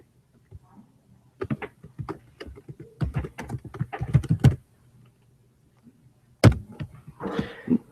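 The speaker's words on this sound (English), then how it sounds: "we'll just type in that we have to switch an attachment now." Bursts of close keyboard clicking come in uneven clusters, with a pause before a final quick flurry of keystrokes and a few louder knocks.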